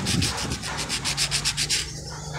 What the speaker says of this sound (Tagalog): Kuskusin natin para basa siya.